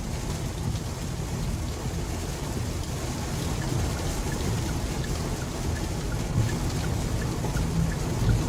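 Steady, dense rain patters continuously on a 2021 Kia Sorento Hybrid, heard from inside, with a low rumbling undertone and no talking.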